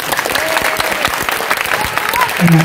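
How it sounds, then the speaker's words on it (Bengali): An audience at a school staging of The Tempest applauds the performers, dense clapping that rolls on loudly and continuously while a voice briefly rises near the end. "আবার আমাদের এই শিল্পীদের জন্য একটি করতালি আপনি দেবেন"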